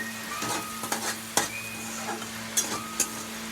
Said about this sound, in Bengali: একটু ম্যাগি মশলা দিয়ে দিচ্ছি এর মধ্যে। একটু নেড়ে নেব